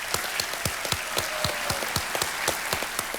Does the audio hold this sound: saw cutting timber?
no